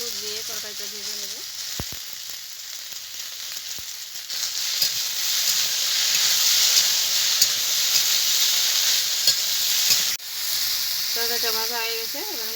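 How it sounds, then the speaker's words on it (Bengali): Potato and green plantain pieces frying in oil with salt and turmeric for a Bengali fish curry, a loud continuous close sizzle and hiss that swells midway, with brief voice-like tones near the start and end. "একটু লবণ আর হলুদ দিয়ে তরকারিটা ভেজে নেব।"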